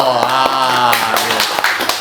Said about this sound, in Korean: 고생시켜 우리 주무관님을 위해서 박수 한번